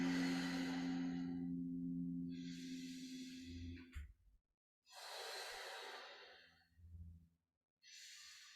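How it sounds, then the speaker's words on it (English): Qi gong kidney breathing, also called door of life breathing: a long, slow, deep breath followed by several airy sighing exhales separated by pauses, close and alone. "Kidney breathing. Door of life breathing."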